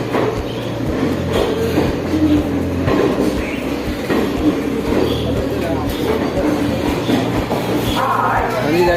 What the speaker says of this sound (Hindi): जैसा कि आप देख पा रहे हैं ये हमारी ट्रेन है